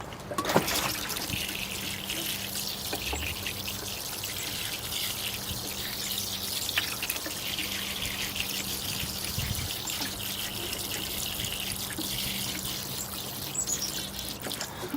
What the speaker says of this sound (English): I'm going to flush this out. I'm just going to water it and kind of get a good surface to put my sand down on.